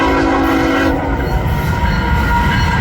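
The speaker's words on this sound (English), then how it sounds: "One thing I'm gonna have to get used to is the train that comes by." A train passes close to a welding shop, loud and continuous, with sustained horn tones and heavy rolling rumble filling the whole stretch.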